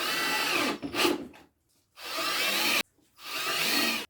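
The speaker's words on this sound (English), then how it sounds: "I'm going to put 3 screws in to hold these together" A power drill driving screws into a wooden garden planter in three separate whirring bursts, each ending abruptly, with short silent gaps between them, close and loud.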